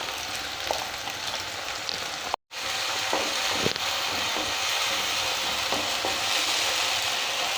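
Chopped onions and ground tomato frying in a pan for a spicy Maggi masala, giving a steady broadband sizzle with a few faint utensil clicks and one brief dropout partway through.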